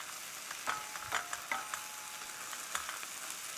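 Mushrooms with parsley and green onion are tossed in a hot pan, giving a steady soft sizzle with a few scraping stirs early on, heard close and alone.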